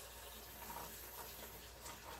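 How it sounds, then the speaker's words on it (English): Water poured into a pan of tomato sauce, a soft steady splashing gush lasting a couple of seconds, faint and continuous with no talk. "And we're going to add some water to our tomato sauce."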